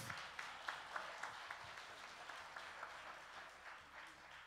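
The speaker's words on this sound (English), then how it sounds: "let's clap real good for life" Church congregation applauding in a sanctuary during a prophet's sermon, a fairly faint, steady wash of claps with a few sharper accents, carrying on for several seconds with no voice over it.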